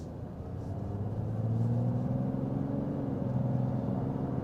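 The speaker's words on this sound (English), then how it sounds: "hearing that beautiful engine note of an inline six-cylinder motor" An inline six-cylinder engine in a 2025 Mazda CX-90 drones softly and evenly while cruising down the road, a low smooth hum heard from inside the cabin with a slight swell partway through.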